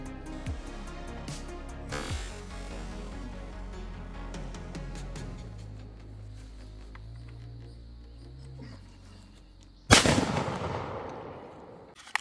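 Shotgun blasts from a Browning A5 during trick shooting outdoors: a loud close report near the start, handling noise and a low hum in between, then a second sharp, loud shot with a ringing decay near the end.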